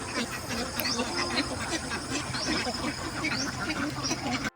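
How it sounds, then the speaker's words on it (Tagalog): A large flock of ducks on a farm in Mindoro quacks continuously, a busy chorus of overlapping calls at close to moderate distance, with a faint voice in the background. "ito po yung itik nila. Ayan, napakarami."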